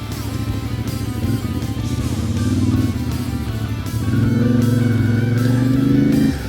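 A CFMoto 450MT motorcycle ridden near the Waipapa Dam gives a loud, close, steady engine drone that rises in pitch with gear changes and acceleration, heard alone without talk.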